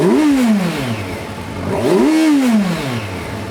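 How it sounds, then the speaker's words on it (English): A Kawasaki Versys 1000 motorcycle with a 1000cc inline-four engine blips its exhaust twice, each rev climbing sharply and falling away, loud and close with the engine running steadily between them. "It is an inline-4 motor. It is still very impressive, and the exhaust note,"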